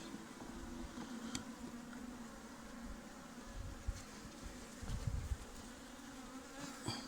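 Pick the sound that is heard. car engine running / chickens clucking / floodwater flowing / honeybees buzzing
honeybees buzzing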